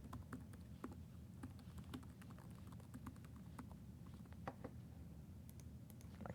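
Someone types on a computer keyboard, a quiet series of irregular, light clicks with short pauses between bursts against a soft low background hum.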